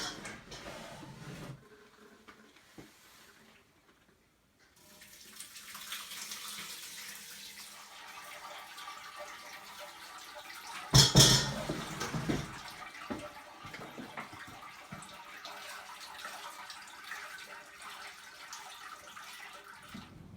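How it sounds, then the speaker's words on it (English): Elderberries and raisins in liquid are poured through a colander, giving a steady splashing, trickling water sound for most of the stretch, with one louder burst of pouring midway and no talk. "we are going to go ahead and pour that through this colander and just take out all the solids"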